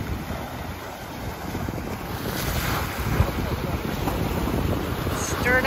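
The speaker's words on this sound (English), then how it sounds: "Got waves coming from that ship." Waves from a passing ship's wake wash steadily onto the beach at Roberts Point Park in Port Aransas, Texas, a continuous surf roar mixed with strong wind noise across the microphone.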